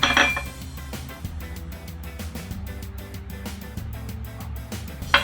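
Spices such as paprika, onion and salt mixed in a bowl, heard as faint clinking and scraping of a utensil against the bowl, with sharper clinks at the start and end over a low background hum.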